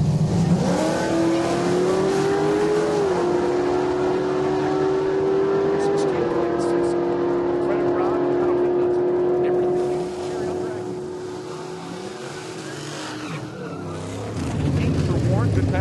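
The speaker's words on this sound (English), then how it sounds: "Dan driving his Mustang. He's in our small block naturally aspirated category. Paired up with Dan Nissen. Nissen in the daily driver Nova" A small-block naturally aspirated Ford Mustang and a daily-driver Chevy Nova race down the drag strip at Heartland Park, with engines roaring loudly and holding a rising, sustained pitch, while an announcer talks over the noise.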